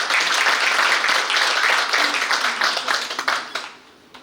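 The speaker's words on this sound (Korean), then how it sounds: "여러분 박수 부탁드립니다." Ceremony audience applauding at a newspaper's 25th founding anniversary event, a sustained wash of many hands clapping that thins out and fades near the end.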